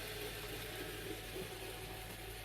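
A class 37 model railway locomotive runs anti-clockwise past on a layout track, giving a faint, steady motor whir and rail hum that holds at a constant level with no talking.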